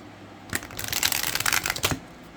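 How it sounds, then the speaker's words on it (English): Tarot cards on sturdy cardstock are riffle-shuffled close by, a quick burst of crisp flapping that runs for about a second and a half and ends in a soft snap as the deck settles, with no voices. "I knew they would shuffle well."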